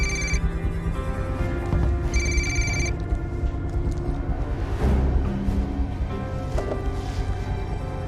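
A telephone in a drama scene rings in two short bursts of electronic trilling a couple of seconds apart. The rings sound over a busy background of rustling and murmur.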